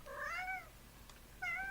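A cat meows twice, close by and fairly soft, with a short pause between the two calls.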